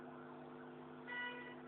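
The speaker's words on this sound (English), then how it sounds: "You can hear the siren" An emergency siren wails faintly in the distance as a steady, tonal drone, swelling slightly toward the end, with no one talking.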